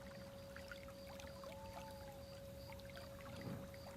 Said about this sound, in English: The water sounds highly curated by yours truly.